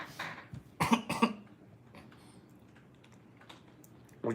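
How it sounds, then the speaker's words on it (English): One person coughs close to the mic, two or three quick harsh coughs in a burst, followed by quieter throat sounds and faint clicks in a small room. A short breathy noise comes at the end, with no talking. "Cough it all out."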